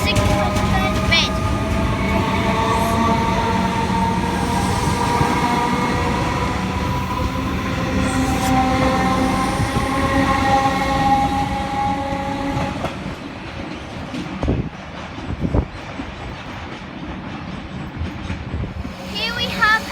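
A Comeng electric train pulls out of Caulfield station in Melbourne, rumbling and clattering loudly at first, then fading as it moves away. Sharp knocks follow near the end, and a voice talks over the sound.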